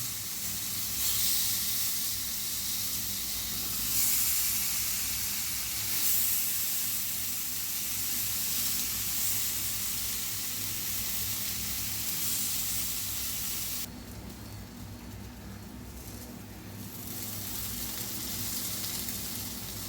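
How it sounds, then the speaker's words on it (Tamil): Plantain slices fry in oil for a Tamil valakkai fry, a dense continuous hiss and sizzle that holds steady and fairly loud throughout and eases slightly toward the end, with no one speaking. "மீதி இருக்க வாழைக்காயும் இதே மாதிரி நம்ம ஃப்ரை பண்ணி எடுத்துக்கலாம்"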